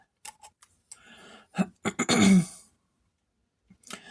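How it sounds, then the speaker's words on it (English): A person clears their throat with a few short, gravelly rasps close to the microphone, separated by quiet pauses. "I get allergies and it makes me clear my throat again and again and again"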